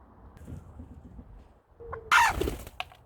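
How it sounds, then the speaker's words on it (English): A broody pet hen bursts into an angry flurry of wing flaps, loud and close, with a few soft clucks and rustles before it and a sharp squawk trailing after. "That was an angry, broody flap."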